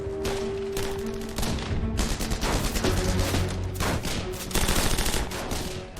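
Rapid bursts of World War II gunfire crackle continuously as Allied troops advance along a road, overlapping volleys of shots with a loud, dense battlefield rumble and no clear pauses.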